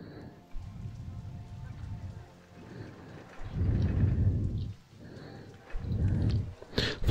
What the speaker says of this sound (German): jetzt regnet es auch noch.